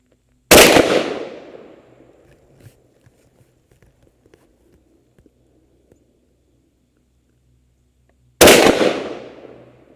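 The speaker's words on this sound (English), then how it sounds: "I'm gonna take 2 shots, set the barrel over in the shade, come back, and then take the other 3 shots" Two loud, close shotgun blasts from a TriStar Viper G2 firing Brenneke .410 slugs outdoors. The shots are spaced about eight seconds apart, each with a sharp crack and a decaying echo, and near silence falls between them.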